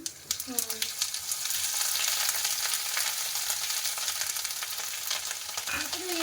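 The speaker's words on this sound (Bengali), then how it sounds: "তেলটা গরম হয়ে গেছে তারপরে জিরে ফোড়ন দিলি না হ্যাঁ এরপর একটু আদা কুচি" Cumin seeds and chopped ginger sizzle in hot oil in a home kitchen, a dense, steady crackling hiss that stays loud and close throughout, with a few utensil knocks near the start and no talk.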